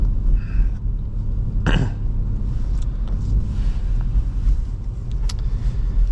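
A 2005 Toyota Highlander accelerating on throttle in winter storm conditions gives a low, steady engine rumble close by. A brief sharp burst cuts through near the middle, with faint higher noises over the drone.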